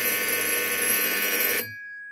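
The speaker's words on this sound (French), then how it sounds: "Et la cabine sonne." A telephone booth rings with an incoming call, a bright continuous electronic ring that stops abruptly after under two seconds, leaving a fainter lingering tone.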